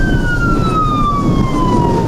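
A fire rescue vehicle's siren wails loud and steady during an airport drill at Taoyuan Airport, one long gliding tone over a constant engine and road rumble.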